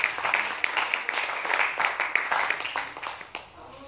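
A church congregation applauds in a dense, steady wash of clapping that fades slightly toward the end, with a faint murmur of voices mixed in.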